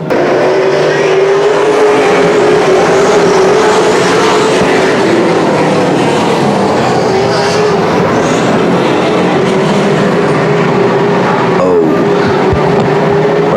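Late model race cars racing at Sauble Speedway in an APC Late Model Series event, a loud, steady roar of many engines that drones on continuously as the pack circles the track, with engine pitch shifting as the cars pass.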